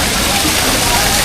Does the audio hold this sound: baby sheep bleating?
no